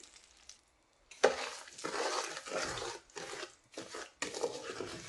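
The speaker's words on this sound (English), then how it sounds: "Once it's all melted, we're going to add the 2 cups of sugar and mix that in." Sugar is stirred into melted ghee in a pot for sweet rice, giving bursts of gritty scraping and clinking from a spoon against the metal, with brief quiet gaps between strokes, close and fairly soft.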